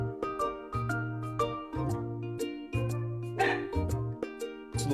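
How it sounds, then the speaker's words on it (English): A dachshund barks repeatedly in sharp, loud bursts with short gaps between them, and some jingling is heard alongside the barks. "I'm making a video and I need you to stop the bark!"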